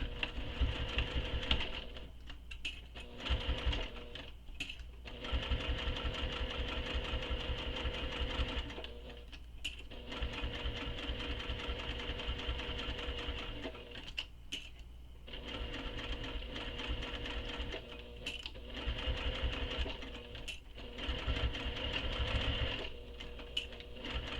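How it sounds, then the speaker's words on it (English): A sewing machine stitches the inner edge of a Nora bag in long, steady, rapid runs broken by brief pauses for stopping and starting, close and clear with no voices. "So now I need to sew this inner edge"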